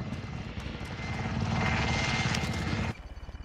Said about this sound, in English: Did the helicopter get you?